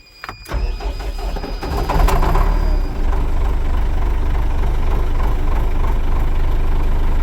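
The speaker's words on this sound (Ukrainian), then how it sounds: "Так, трактор працює." An MTZ tractor engine runs steadily at idle in a field before ploughing, with a loud, continuous low rumble that rises after a brief start-up and holds even throughout, no voices.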